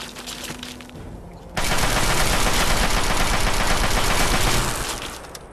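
Sustained automatic gunfire in Fallout 3, a dense loud burst of rapid shots lasting several seconds after a quieter stretch of scattered noise, then tapering off.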